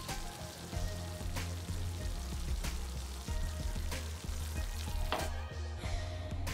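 Chopped tomatoes and sugar sizzle softly in a pan while being stirred for Turkish menemen, a continuous low frying hiss with light scraping and tapping of the spoon throughout.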